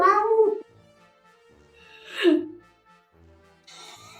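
A cat gives a drawn-out meow at the start, then a second rising, strained meow midway, both close and clear against near silence, with a brief faint noise at the end.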